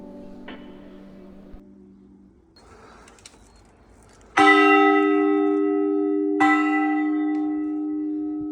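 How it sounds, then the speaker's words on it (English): St. Stephen's church bell rings in its tower, two heavy strikes each ringing out long and loud with slow decay, after softer knocks and rustling near the bell. "She also suggested I go up the bell tower and ring the bell."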